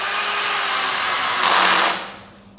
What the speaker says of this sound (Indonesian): Kita coba nyekrup kecil-kecil.